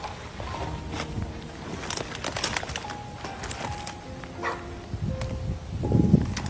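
A dog trapped down in a creek barks in short, irregular bursts at moderate distance, mixed with outdoor ambience, rustling and water noise.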